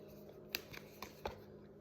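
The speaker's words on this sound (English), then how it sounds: "Maybe I'm not shuffling good." A deck of oracle cards is shuffled quietly, giving a few soft, scattered taps and flicks in a still room.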